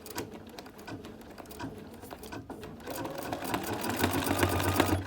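An embroidery machine stitches the first color of a greeting card design, running a steady, rapid mechanical stitching rhythm throughout that grows a little louder toward the end, with no talking.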